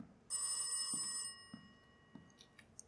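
A telephone rings in the horror game Rise of Insanity: one loud bright electronic ring, then quiet footsteps or thuds and faint chiming.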